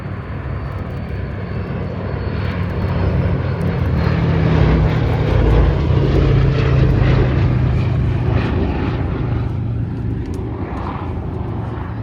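Propeller-driven wartime aircraft passing at the RAF Cosford Air Show, a loud, continuous engine drone that swells toward the middle as it flies near, then eases slightly while still close.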